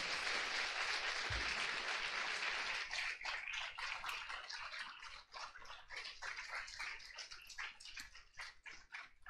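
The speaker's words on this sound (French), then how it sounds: "Vos applaudissements font une bonne conclusion" A theatre audience at a stage talk about video games claps: a dense, muffled wash of applause that breaks into more distinct, scattered hand claps as it goes on, heard from some distance.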